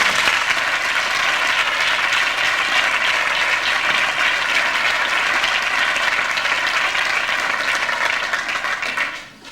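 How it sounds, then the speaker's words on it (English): An audience gives a full, steady round of applause for a performer at a school production, dense and even for several seconds before tapering off abruptly at the end. "A big clap for Alan Jensen."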